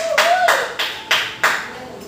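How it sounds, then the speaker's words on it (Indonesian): A class claps in a lesson simulation: a few separate bursts of group clapping, each starting sharply and then fading, with a brief voice-like tone at the start. "Tepuk tangan untuk kita semua."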